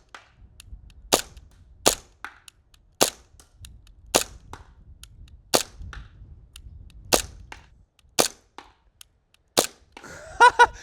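Sharp airsoft gun shots, roughly nine single pops spaced about a second apart, close and loud over quiet background, with a brief mechanical rattle at the end.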